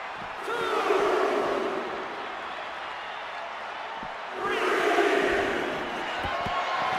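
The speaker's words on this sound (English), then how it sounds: "Now entering the raucous crowd." A raucous arena crowd roars in a WWE 2K26 wrestling match, a dense, sustained wall of cheering that swells at the start and again midway, with a commentator-style voice speaking over it.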